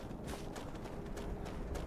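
Running footsteps in Skyrim, a quick steady patter of footfalls over a dense ambient bed, moderately faint and continuous with no talking.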